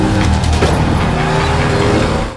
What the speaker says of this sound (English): Allison started the car and crashed Daniel, who had turned into a zombie